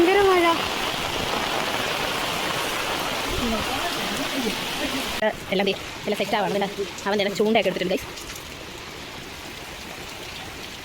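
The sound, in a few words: heavy rain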